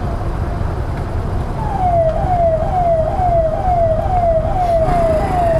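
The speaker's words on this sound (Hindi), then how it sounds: "दरभंगा एम्स के तरफ से ही जो है ना ये काफिला आ रही है" A convoy of vehicles approaches from Darbhanga AIIMS on a road where traffic has been stopped. A loud siren whoops in a rapid, repeating falling pattern over steady road rumble.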